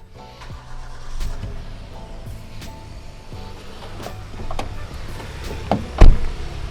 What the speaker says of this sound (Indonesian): kita akan coba starter, rasain gimana halusnya V6-nya